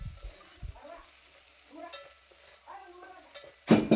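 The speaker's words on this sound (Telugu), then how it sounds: "ఉప్పు కారం వేసిన తర్వాత కలిసేటట్టు మంచిగా కలుపుకోండి." A spoon scrapes softly through okra curry seasoned with salt and chili powder in a pan. The quiet stirring strokes come with faint sizzling, then a sharper clatter of cookware at the end.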